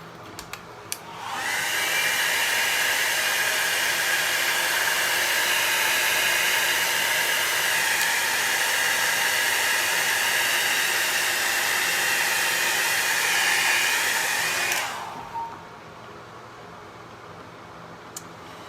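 A blower sends a steady, loud rush of air across alcohol ink on yupo paper for about thirteen seconds, starting abruptly and cutting off cleanly, with quiet room tone before and after.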